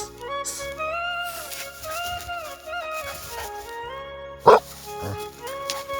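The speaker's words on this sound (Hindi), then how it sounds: "ये हरामी कुत्ता है हमारा, हरामी कुत्ता।" A pet dog barks and yips in short bursts, with one sharp loud bark near the end, over a continuous tonal background with some whimpering.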